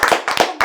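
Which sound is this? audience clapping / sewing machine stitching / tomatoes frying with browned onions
audience clapping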